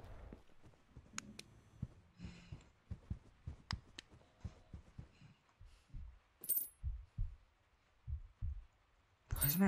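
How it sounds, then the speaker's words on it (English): Heartbeat effect in the Fazbear Nights video game, a series of soft low thumps in an uneven rhythm, interrupted by sharp clicks and a couple of bright metallic jingles, fairly quiet with no talk. "Why is my heart beating?"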